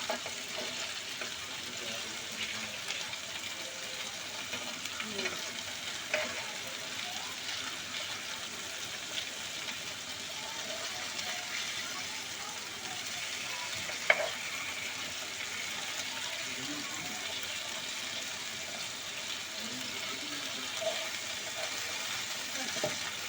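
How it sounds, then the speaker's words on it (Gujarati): Kagsha fish fries in masala gravy in a pan, giving a steady close sizzle that runs throughout with occasional faint clicks and pops. "તો હવે આપણે આને ઘડીક આમ નામ ફ્રાય થવા દઈશું."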